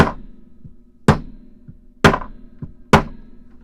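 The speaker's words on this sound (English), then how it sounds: "we're just going to give it a couple of whacks" A hammer strikes through a cloth, pressing the scales of a 58mm Victorinox Classic SD pocketknife onto brass pins: four sharp, evenly spaced whacks, close and loud, with faint lighter taps between them.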